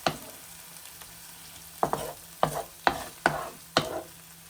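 A spoon stirs keto handi with low-fat cream in a pan, six distinct scraping strokes spaced about half a second apart after a single opening stroke, close and clear over a faint hiss.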